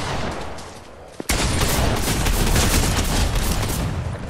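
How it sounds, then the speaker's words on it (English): Dense, steady gunfire fills a shooter game match, a sharp crack kicking off a sustained barrage that stays loud and close to the end with no pauses. "There is people shooting at me."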